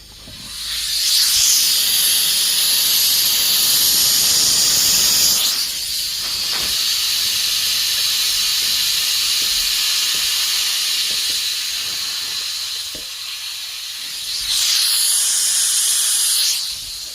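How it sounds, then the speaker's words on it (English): A 3-inch Fowler safety relief valve with a stainless steel seat vents during a hysteresis test, with loud, sharp steam-like hissing bursts near the start and end and a quieter steady hiss between them, all close up. "So I have the second valve with the stainless steel seat installed. Let's just test the hysteresis on this."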